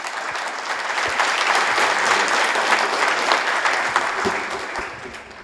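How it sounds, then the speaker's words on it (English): Large conference audience applauding a guest invited on stage at an international education and training event, loud dense clapping that holds steady and then tapers off toward the end. "And give him a big round of applause."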